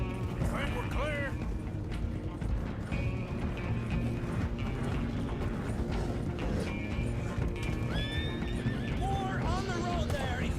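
Horse whinnies and clip-clopping hooves from a galloping chase in the Western video game Red Dead Redemption 2, heard over a dense, loud bed of music and shouting voices throughout.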